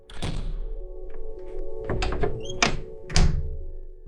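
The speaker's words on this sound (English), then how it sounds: "doors opening in a certain way" A door opens with a few hollow thunks and knocks spread across the moment, close and fairly loud, set over a low hum.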